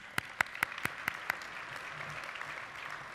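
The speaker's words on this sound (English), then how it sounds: "We can clap for that." A short burst of clapping from a small group, sharp claps at first that quickly thin out and fade into quiet room noise.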